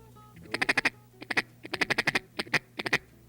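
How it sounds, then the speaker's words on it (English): Duck call blown as a feed chuckle for hunting waterfowl: rapid bursts of short, nasal quacking clucks in quick groups of three to six, close and clear with no talking. "Feed chuckle is, or feed call is the one we use when they're close so that we don't scare them."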